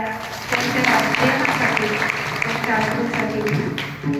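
An audience at a Marathi kirtan performance in Chalisgaon, Khandesh, breaks into sustained, dense applause, loud and close, holding steady for several seconds before tapering off at the end, with voices and some tonal sound mixed underneath.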